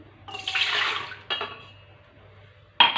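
Warm milk pours from a glass into a bowl, a burst of liquid splashing for about a second, then a shorter second pour, and a brief final splash at the end, all close and fairly quiet.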